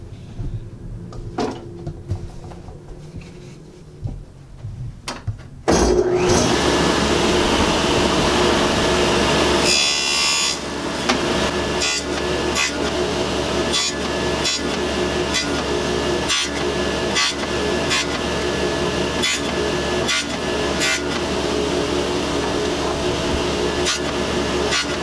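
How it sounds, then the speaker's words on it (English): A wooden tenon being cut for a lamp build, taking a shallow first pass and then working up to the fence: a steady loud machine drone starts abruptly and runs throughout, with repeated sharp knocks and cutting bursts over it. "we're going to do a first pass shallow, then push to the fence, and finish the tenon out"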